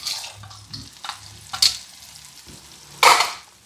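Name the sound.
carrots and celery cooking in pot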